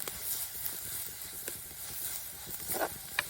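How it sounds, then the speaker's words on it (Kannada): Onions fry in a pan for fish palya, giving a soft, steady sizzle with a few brief crackles and stirring taps, fairly quiet and close. "ಈರುಳ್ಳಿ ಮಾತ್ರ ಚಂದ ಮಾಡಿ ಫ್ರೈ ಆಗಬೇಕು."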